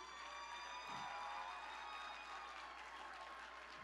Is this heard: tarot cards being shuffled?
no